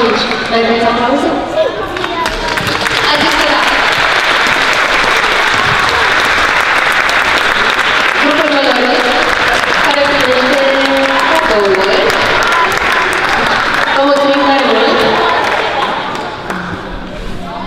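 Audience applause at a stage show, a dense sustained clapping from a large crowd that swells and carries on for over fifteen seconds before starting to fade.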